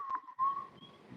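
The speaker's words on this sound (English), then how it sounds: "and start whistling, man," A person whistles a brief, faint two-part tune, a few clear steady notes in a quiet room.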